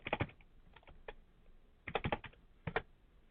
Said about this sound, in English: You can see now I'm going faster, just typing junk.